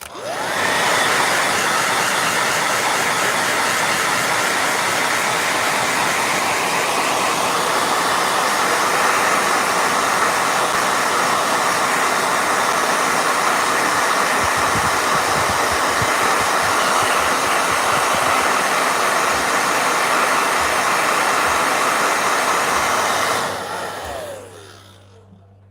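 A blow dryer runs loud and steady at close range, its broad whooshing roar holding constant for over twenty seconds before switching off near the end.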